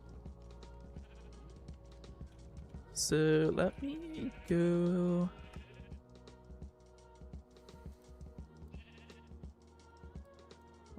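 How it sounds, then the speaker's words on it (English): Loud, close Minecraft sheep bleats burst out twice in quick succession, then quieter bleats trail off over steady game ambience, with a brief spoken line from a player. "Oh, the sheep are loud."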